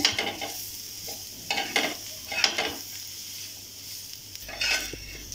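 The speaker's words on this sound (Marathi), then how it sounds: "ओलं खोबरंही आपल्याला हे 2-3 मिनटं व्यवस्थित भाजून घ्यायचं आहे." Fresh grated coconut roasts in a pan for a mutton rassa, with repeated scraping stir strokes and a soft, steady sizzle close by, no voices.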